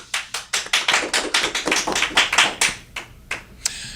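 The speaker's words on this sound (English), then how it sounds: "So nice round of applause for Mr. Steve Nathan." A few people applaud a presenter on a TV talk show, sharp distinct claps in a quick, slightly ragged rhythm that thin out and stop near the end.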